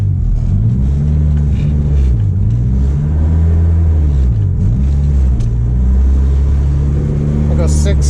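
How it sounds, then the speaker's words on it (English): A K24a2-swapped Acura Integra with a six-speed Type S transmission running through the gears, a loud, close, steady engine drone rising and dipping with each shift, and a brief voice near the end. "Putting it through the gears."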